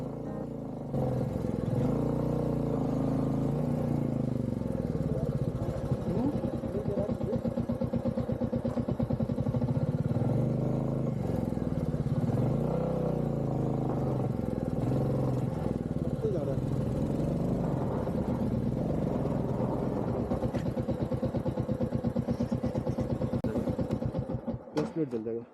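A pickup truck engine strains and labours while climbing a dry, loose dirt slope, a steady loud drone with uneven revving throughout, and voices talk over it.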